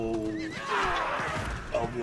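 A horse neighs in the Diablo 4 video game, a long whinny over hoof clip-clops and busy game sounds, with a voice talking throughout.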